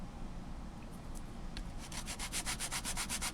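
Close, steady rubbing of paper on a sanding surface, starting soft and building into a quick rhythmic back-and-forth scrape.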